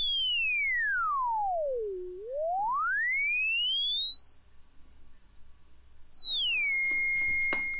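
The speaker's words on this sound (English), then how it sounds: "So if I disconnect this, we are going to hear that self-oscillation happening." A Eurorack synthesizer filter self-oscillating into a pure sine tone that sweeps down low, climbs high, holds, then drops to a steady pitch, clear and fairly quiet with no talking.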